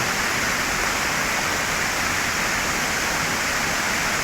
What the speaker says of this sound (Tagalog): Talon!